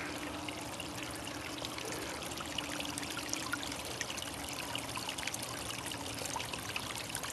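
A shallow stream spills over a series of little waterfalls on a summer hillside, giving a steady, close, continuous rush and trickle of flowing water with no voices.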